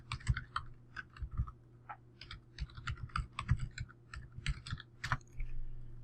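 Someone types quickly on a computer keyboard nearby, making irregular bursts of soft key clicks with short pauses between words, with a low electrical hum underneath.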